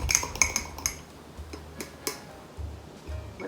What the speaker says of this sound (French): Il faut brasser jusqu'à ce qu'il n'y ait plus de petits grumeaux.